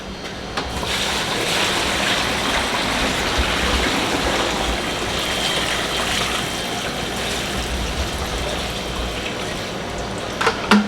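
Water pours steadily into a pot with a continuous rushing splash, close and loud, ending with a few clinks.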